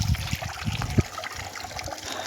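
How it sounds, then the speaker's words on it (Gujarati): Water gushing from a farm borewell into an irrigation pipeline, a steady splashing trickle with a few louder low surges near the start, close by and without talk. "આપણી લાઈનમાં આપણે પાણી મળી દીધું છે।"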